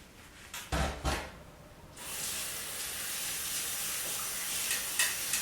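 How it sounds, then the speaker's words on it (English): Tap water runs steadily into a kitchen sink while hands are washed after shaping ricotta and spinach gnocchi, a continuous hiss starting about two seconds in after a few brief splashes, fairly close. "I'm just going to wash my hands."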